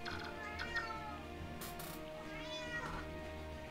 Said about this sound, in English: The fattest, fussiest cat in the universe.